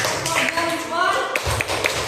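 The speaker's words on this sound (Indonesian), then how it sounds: "tepuk jempol dulu untuk kelompok kanan" A group taps out a light, patterned thumb-clapping rhythm under a speaking voice, with several soft pats near the end.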